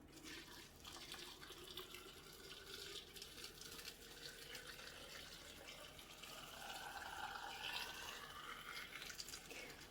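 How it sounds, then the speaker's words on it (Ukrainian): Boiling water poured from a kettle over tomatoes packed in jars, a steady faint trickling pour that continues for the whole stretch and grows slightly fuller near the end, with no talking. "І ось томатики розкладені, і відразу ми їх заливаємо окропом."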